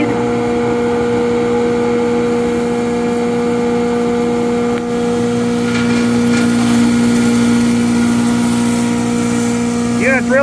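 A hammer mill with a 1/32 screen grinding limestone aggregate, a steady loud mechanical whine and hum with strong constant tones, running continuously throughout while a person talks over it.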